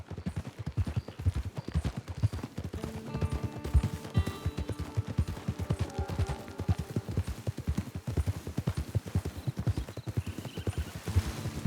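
Horse hooves clip-clop steadily and close in Red Dead Redemption 2, a continuous even rhythm with occasional gunfire in the background.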